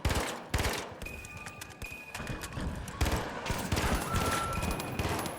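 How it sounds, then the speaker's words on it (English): Gunfire in the shooter game The Finals, including shotgun blasts, comes as a dense string of sharp loud bursts and rapid cracks, with one brief gap near the start and continuous firing after three seconds. "I'm gonna die to that shotgun"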